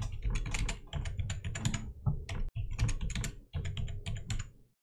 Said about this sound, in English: I will enter my password.